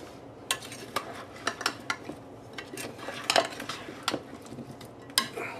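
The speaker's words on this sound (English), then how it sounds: "Toss them until they're thoroughly coated." Sweet potato chunks tossed in a bowl to coat them, giving a series of irregular clinks and scrapes of utensil against the dish, close and moderately loud, with no talking.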